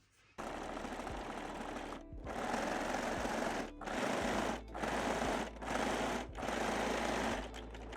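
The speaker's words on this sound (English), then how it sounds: "stitch both leg openings using a zigzag or your cover stitch machine" A zigzag or cover stitch sewing machine stitches the leg openings of lace-back Brazilian panties, running in a loud, steady close whir broken by several brief pauses between runs.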